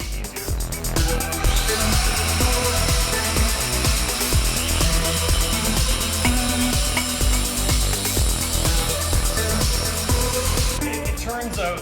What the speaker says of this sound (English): we could just take an angle grinder and 10 seconds later we have the part that we're looking for